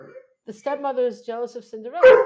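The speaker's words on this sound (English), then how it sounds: "that's my dog" A dog barks once, a short loud sharp bark near the end, right after a person speaking close up.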